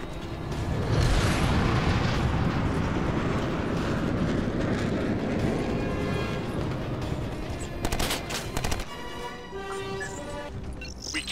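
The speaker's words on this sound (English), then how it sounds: "Okay, airstrike on the way." Airstrike explosions in the military shooter game Ghost Recon Advanced Warfighter 2, a sustained loud rumbling roar of blasts and debris lasting several seconds, with sharper crackling bursts near the end.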